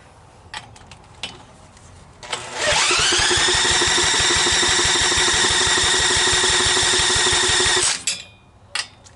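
A Troy-Bilt tiller's small engine is pulled over: a sudden loud rattling burst of rapid firing pulses that holds steady for about five seconds, then cuts out, with a few faint knocks before and after.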